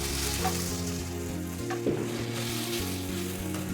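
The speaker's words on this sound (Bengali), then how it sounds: "পাউরুটির টুকরো দেওয়ার পর পাউরুটিগুলোকে একটু ভালো করে ভেজে নেব।" Pieces of bread, six slices in all, frying with spices in a hot pan, giving a steady close sizzle that runs continuously for the whole stretch with tonal background sound layered over it.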